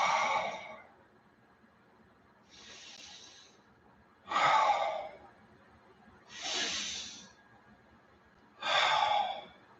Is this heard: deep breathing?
yes